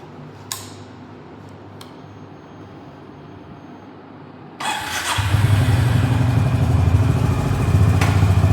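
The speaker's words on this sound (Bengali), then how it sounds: "তো বাইকটাকে আমি প্রথমে স্টার্ট করি।" A motorcycle is started at home before chain cleaning: quiet ticking background and a couple of clicks, then the engine catches at once and settles into a steady, loud, close idle.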